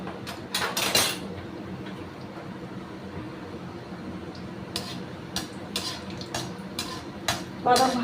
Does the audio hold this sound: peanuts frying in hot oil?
yes